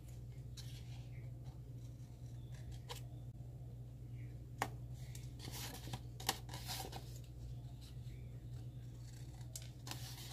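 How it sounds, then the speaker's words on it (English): Scissors snipping the corners off a paper template for a Hershey bar clutch, a few sharp isolated cuts spaced apart over a quiet background. "Cut a little piece of the bottom, just the corners."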